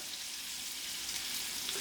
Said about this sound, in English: frying these meat off in batches